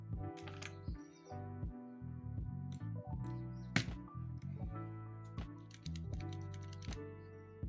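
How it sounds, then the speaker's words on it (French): Mechanical switches being pressed one by one into a custom keyboard, a series of close, sharp plastic clicks and snaps at an uneven rhythm, with no voice. "il ne nous reste plus qu'à emboîter tous les switches sur la partie du clavier"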